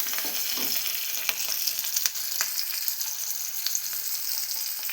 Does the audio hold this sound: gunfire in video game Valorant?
no